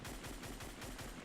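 Rapid automatic gunfire in the video game Fortnite, a quick string of about seven evenly spaced shots, fairly quiet and steady with no talking.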